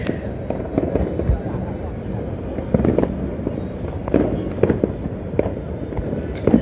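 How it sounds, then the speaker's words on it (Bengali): Repeated New Year's Eve fireworks bursts pop and crackle at irregular intervals over a steady din of crowd noise and distant voices in Dhaka. "রাজধানীতে এরই মধ্যে আতসবাজি ফুটিয়ে নতুন বছরকে কিন্তু স্বাগত জানাচ্ছে রাজধানীবাসী"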